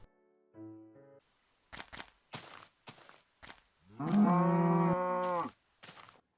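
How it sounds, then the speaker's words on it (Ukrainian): An old Minecraft cow moos loudly once in a long, drawn-out low call, preceded by short footstep-like thumps and a brief tonal chirp. "а старі звуки корів."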